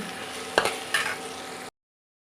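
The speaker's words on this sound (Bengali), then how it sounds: "আলুগুলো আমি একটু ভালো করে ভেজে নেব" Boiled potatoes fry in a pan for a vegetarian okra dish, a close, even sizzle with two quick stirring scrapes before the sound cuts to silence.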